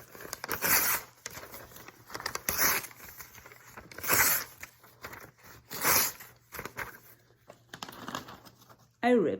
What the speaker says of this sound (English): It was the sound of a ripped paper.